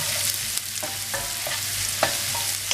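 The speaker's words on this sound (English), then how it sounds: "go ahead to mix them all together while the zucchini is still cooking over the heat" Zucchini sizzles in a hot pan with pepper and salt while a utensil stirs and scrapes through it, giving several distinct clicks and scrapes over a steady frying hiss, close up with no talking.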